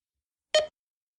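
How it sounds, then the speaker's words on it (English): A laptop gives a single short electronic beep, close and clear, cutting through otherwise total silence. "Is that you beeping? It's Tiny's laptop."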